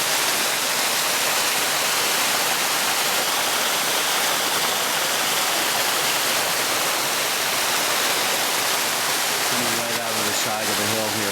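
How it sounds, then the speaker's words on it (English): A waterfall at Vikingsholm on Emerald Bay, Lake Tahoe, gives a constant broadband roar of rushing water that stays close and loud throughout, with a brief voice surfacing near the end. "Look at the beautiful waterfall."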